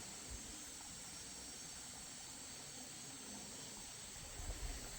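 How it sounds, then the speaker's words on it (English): A waterfall in Tasek Lama recreational park in Brunei gives a faint, steady rushing hiss, a continuous distant wash of falling water with no voices. "just listen to the sound of the waterfall"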